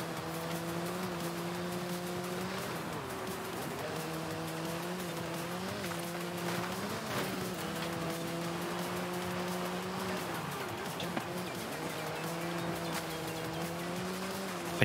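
A car in Forza Horizon 5 is driven hard through corners. A steady engine drone rises and falls through gear changes, with tire squeal through the turns. It is continuous and close, with no talk.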